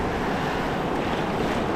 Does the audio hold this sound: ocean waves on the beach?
yes